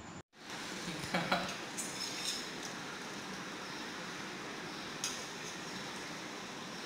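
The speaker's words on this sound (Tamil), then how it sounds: "அடுத்து எடுத்து வச்சுருக்க நெய் வந்து இதில் சேர்த்து கிளறி விட்டுடலாம்." Ghee-laced cucumber kesari is stirred in a pan, giving soft continuous scraping with a faint sizzle and a few light clinks of the utensil against the pan.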